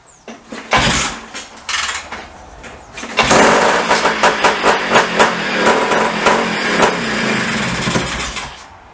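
A Greeves Anglian motorcycle with a suspected fuel blockage and a carburettor that isn't flooding properly. A couple of short kicks and bursts come first, then the two-stroke engine catches and runs close by with an uneven, loud, popping rhythm.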